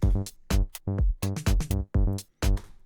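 Short synth notes from an Odin VST bass patch in a plucky sequenced pattern, bright and buzzy with a thin, high pitch rather than a deep low end.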